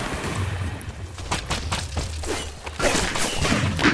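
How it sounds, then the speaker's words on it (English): Fireworks fired from a multi-shot crossbow in Minecraft Dungeons burst in a rapid cluster of cracks and thuds over busy game noise, fairly loud and dense. "I triggered the firework, and that synergized with my multi-shot, so I have 3 fireworks there."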